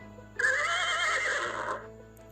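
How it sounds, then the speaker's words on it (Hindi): A single horse whinny, a high wavering neigh lasting over a second, fairly close against a quiet background. "चलो पहले घोड़े का आवाज़ सुनते हैं।"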